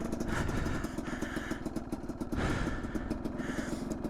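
A 2021.5 GPX Moto TSE250R motorcycle engine on a trail, running with a rough, pulsing mid-range drone that rises and falls in loudness, nearby and without talk.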